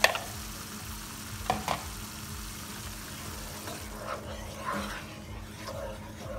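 White sauce is stirred into fish in a pan for an Indian fish Florentine, a continuous close sizzle with soft scraping and a couple of brief louder knocks, no voices over it.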